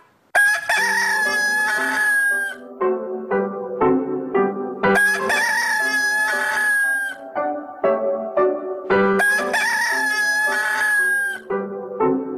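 A voice imitating a rooster crowing, repeated three times: each call starts with a loud rising cry that is held, then breaks into a run of shorter clucking notes.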